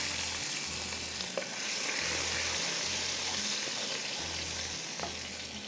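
Chopped garlic fries in oil in a pan, making a soft, steady sizzle with faint stirring taps; fairly quiet and close, with no voices.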